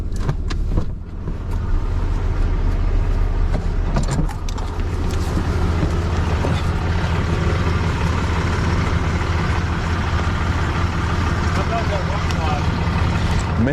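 A car engine idles with a deep, steady rumble while the driver tries to lock in forward drive, a voice talking over the continuous low drone.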